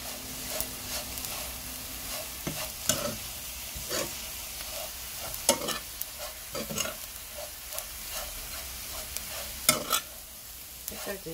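Small dried anchovies being stir-fried slowly in a pan over low heat with oligosaccharide syrup, a soft continuous sizzle broken by scattered scraping stirs of a utensil against the pan, fairly close and quiet.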